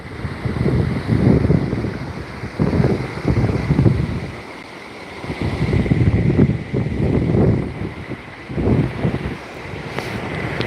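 Strong wind gusts batter the microphone at a waterside park by a creek, rising and falling in loud, rumbling surges with brief lulls between them.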